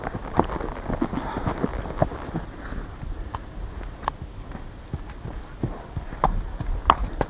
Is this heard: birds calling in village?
no